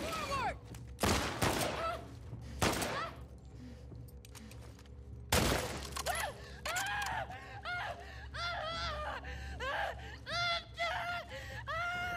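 Gunfire in The Last of Us Part II, a few sharp loud broadband shots standing out early, followed by game ambience and a character's strained vocal sounds.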